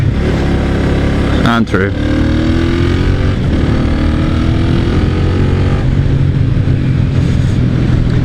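A 1996 Honda Magna 250cc motorcycle rides and accelerates with a steady, loud engine drone and rising tones, while someone talks throughout.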